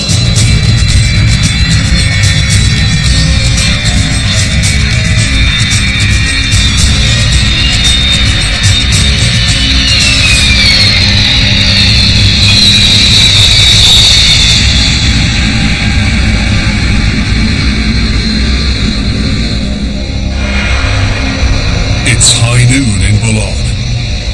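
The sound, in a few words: C-5 cargo plane landing and braking on runway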